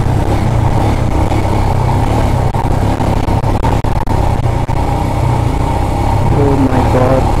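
A motorbike engine runs steadily and loudly up close on a long ride from Hyderabad to Leh Ladakh near Chandigarh, a bike with trouble and running low on fuel, a continuous drone with brief dips and no talk.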